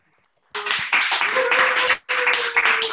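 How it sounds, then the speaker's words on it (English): Clapping from an online audience at student thesis project presentations bursts in suddenly after a near-silent pause, dense and close, breaks briefly and then resumes just as strongly. "let's do one more round of applause before we move on"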